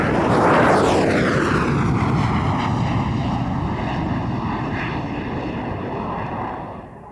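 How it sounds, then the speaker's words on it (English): A Sukhoi Su-25K, the basic export version of the Su-25, roars past at a 1993 air show flying display, a loud jet pass whose pitch sweeps downward as it passes the microphone and then fades away. "Here is their Sukhoi Su-25K."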